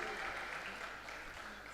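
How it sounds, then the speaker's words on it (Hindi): An audience at a Hindi poetry gathering (kavi sammelan) in Lucknow claps in a soft, fairly distant patter lasting under two seconds, with faint murmuring under it. "एक बार सारे लोग तालियां बजाइए"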